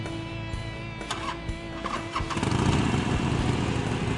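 A Harley-Davidson motorcycle at a dealership fires up: a starter whir gives way to the engine catching and settling into a loud, steady rumbling idle close by.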